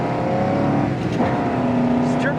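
A 1961 Chevrolet Corvette with dual quads drives down the road, its engine a steady loud drone under continuous road and wind noise, with people talking over it.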